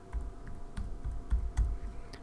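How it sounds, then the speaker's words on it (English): A drug name being typed on a computer keyboard in a pharmacy software module, a run of close, distinct key taps in an uneven rhythm, with nothing else over it. "I simply start typing in the drug I wish to add"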